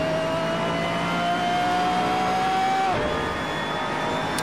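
A Pagani Zonda's engine in the racing game Assetto Corsa at Monza holds a steady loud whine that rises slowly, then drops sharply as the car lifts off, continuing as a dense synthetic drone.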